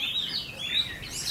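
A red-whiskered bulbul, a caged young bird in training, calls in a run of bright, high, warbling chirps, close and clear, with no talk.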